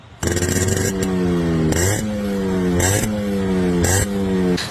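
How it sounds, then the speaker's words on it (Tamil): A motorcycle engine throbs loud and close with a steady exhaust beat, revving up and dropping back in four repeated surges. "வண்டியோட பீட் சவுண்ட் கேட்கலாம் வாங்க"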